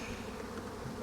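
Honeybees buzz around a Flow Hive beehive in a garden, a dense steady drone filling the air throughout, close and continuous with no voices.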